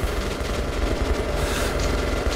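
Dense automatic gunfire from the Metro: Last Light video game crackles in a steady, loud rapid stream during a battle, with no talk heard.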